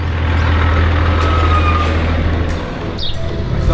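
Truck noise heard while filming from a bicycle with a gimbal: a loud, steady low engine rumble fills the moment, with a brief higher whine or hiss near the end, no speech.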